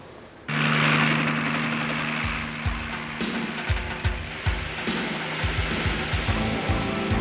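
A jet helicopter in flight in an anime scene gives a loud, steady turbine whine with a throbbing rotor beat that sets in abruptly and holds throughout, with no talk.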